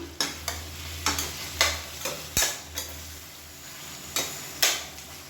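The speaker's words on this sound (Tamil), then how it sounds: "மீடியம் ஃப்ளேமில் வதக்கி விட்டுக்கலாம், நல்லா மசிஞ்சு வர அளவுக்கு." Tomatoes sautéing over a medium flame with salt added, quiet sizzle punctuated by a series of spatula stirs and scrapes against the pan, fairly close and with no talk.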